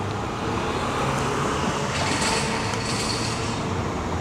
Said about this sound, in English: That didn't sound very good. Oh, it's a bus, no wonder.